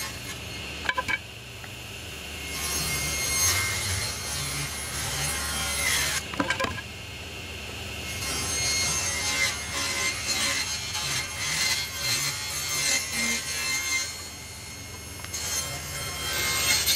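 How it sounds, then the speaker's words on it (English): A saw blade cuts 45-degree angles into wood pieces for a spiral rolling pin, a steady, loud, continuous grinding whine that runs for most of the stretch with no talking. "we've cut our 45-degree angles on each piece"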